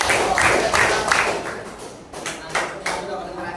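A group of junior high school students claps in counted rhythmic patterns, giving steady bursts of claps from a crowd in a room with some spacing between the beats.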